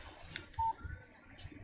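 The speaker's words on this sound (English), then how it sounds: "Text message from Barry" A short electronic phone alert tone for an incoming text message in the video game Alan Wake, a single clean beep heard briefly and fairly faint over quiet background ambience.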